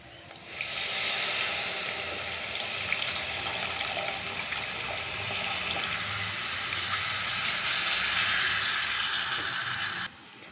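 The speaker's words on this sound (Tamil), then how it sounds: "இப்போ நம்ம புளி தண்ணி ஊற்றிக்கலாம்." Tamarind water gushes into a pan for sundakkai kuzhambu, a continuous, fairly loud pouring rush lasting about ten seconds before it cuts off abruptly, with no talking.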